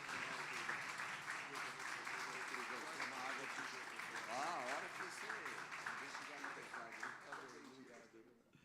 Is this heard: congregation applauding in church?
yes